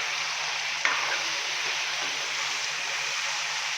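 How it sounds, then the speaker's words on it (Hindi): Beef for tikka karahi fries in oil in a karahi, giving a steady hissing sizzle with a single sharp clatter of a utensil near the start. "और ऑयल के साथ हम बीफ की भुनाई कर लेंगे तकरीबन 5 से 7 मिनट के लिए"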